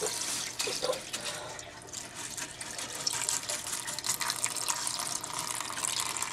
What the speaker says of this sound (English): you want it to be kind of like dripping down like a natural stream